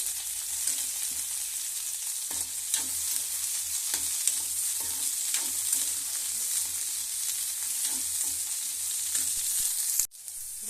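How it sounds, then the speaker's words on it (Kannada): Garlic and onions frying in a pan for onion chutney give a steady, loud sizzle, with frequent soft scrapes and taps of stirring throughout and a brief clatter near the end. "ಬೆಳ್ಳುಳ್ಳಿ ಹಾಕ್ತಿದ್ದೀನಿ ರೀ ನಾಲ್ಕು ನೀರುಳ್ಳಿ ಹಾಕ್ತಿದ್ದೀನಿ ರೀ ಚೆನ್ನಾಗಿ ಫ್ರೈ ಮಾಡ್ಕೊಂಡ್ರಿ ರೀ"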